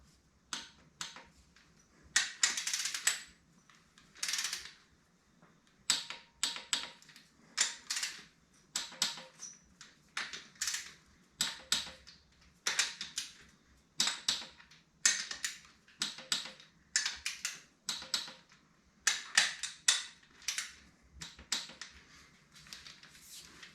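Ratchet wrench tightening engine head bolts in a star pattern during a Yamaha YFM225 rebuild, with rapid metallic clicking in repeated short strokes and brief pauses between bolts. The sound is fairly close and there is no talking.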